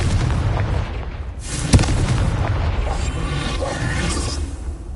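A Confringo spell explosion in the Hogwarts Legacy video game lands as a loud, close booming blast with a sharp burst near the middle, surrounded by rumbling whooshes and continuous game noise, without speech.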